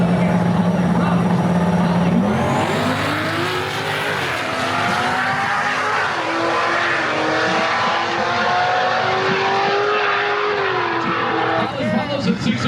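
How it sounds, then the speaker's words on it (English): A 1955 Chevy wagon launches down a drag strip, its engine roaring loud and climbing steadily in pitch as it pulls away, with tire noise and an announcer talking over the run. "Here comes the 1955 Chevy wagon of Chris Patchen."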